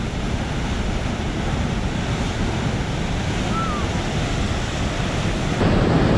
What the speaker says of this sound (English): They're letting some water out.